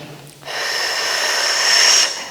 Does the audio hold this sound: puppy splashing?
no